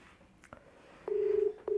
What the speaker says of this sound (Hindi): रिंग भी होने लगा।